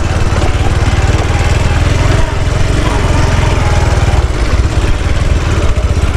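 A rotavator engine runs steadily on a farm field, a loud, continuous low chugging drone with rapid regular pulses and no pauses throughout.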